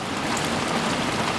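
Torrential rain pours down outside a garage on a freezing night, its constant broad rushing hiss steady and unbroken, loud and close, with no voices over it.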